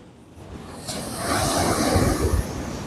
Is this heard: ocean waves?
yes